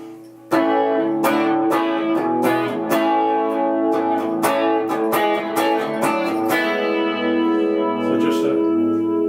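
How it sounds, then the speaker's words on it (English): A clean electric guitar with no effects plays a series of ringing chords and picked notes, sustained and fairly loud, with a bright, slightly processed tone. "Straight guitar sound with no effect to it."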